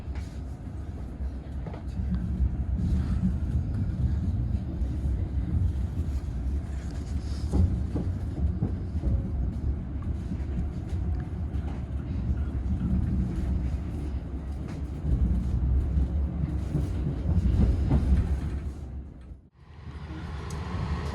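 A passenger train (Probowangi) departing Temuguru station in Indonesia rumbles steadily with low, heavy rolling noise and faint rail clatter, continuing for a long stretch before briefly dipping near the end.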